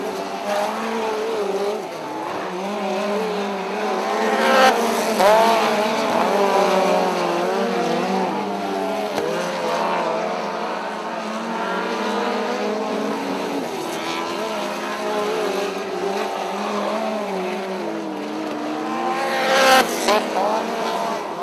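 Race cars roaring around an oval track at a Saturday night race, engines droning loud and continuous with rising and falling passes and a couple of sharp bursts near the end, with no talk over them.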